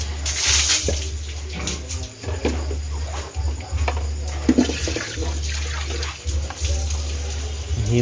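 A weak stream of water runs from a tap at a piglet farm, giving a thin continuous hiss over a low steady hum, with faint clatters now and then.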